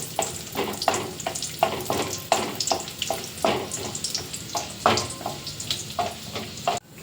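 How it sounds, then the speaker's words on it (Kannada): Cashews, raisins and almonds fry in ghee in a pan for papaya halwa, with a steady close sizzle and rhythmic scraping stir strokes that continue throughout, and no talking. "ತುಪ್ಪದಲ್ಲಿ ಹುರಿತಾ ಇದ್ದೇನೆ ಈಗ ಬಣ್ಣ ಚೇಂಜ್ ಆಗುತ್ತೆ ನೋಡಿ"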